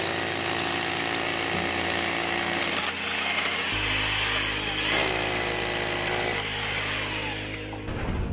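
A power drill bores holes for rebar, producing a loud continuous grinding, hammering drone up close that shifts pitch partway through, with no break in the noise.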